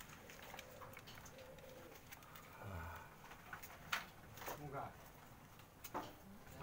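Spotted doves cooing at a pet bird farm, soft low coos repeating amid background chatter and ambient noise, with people talking nearby.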